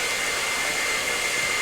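A hair dryer runs steadily and fairly loud, a constant airy whoosh with a thin whine and no change in level throughout.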